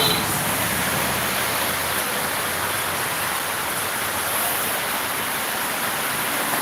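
Rain falls outdoors in a steady, broad hiss that stays level and close throughout, with no voices and no distinct drops standing out.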